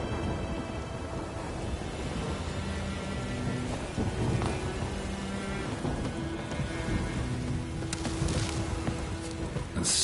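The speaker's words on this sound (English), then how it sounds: "A storm, damn it." A thunderstorm in Witcher 3 sweeps in with steady heavy rain hissing across surfaces, low rolling thunder and gusts of wind, a dense continuous wash of weather with faint tonal game sounds underneath.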